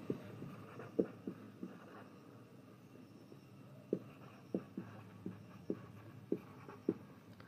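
Someone writes by hand on paper while working a math problem, faint scratchy pen strokes with soft periodic taps roughly every half second over a quiet low hum.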